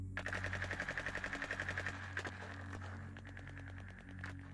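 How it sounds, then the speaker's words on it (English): Rapid bursts of automatic gunfire crackle through a thin, radio-like channel, a steady rattling stream followed by scattered shots over a humming background. "My radio roared with the sound of gunfire all of a sudden."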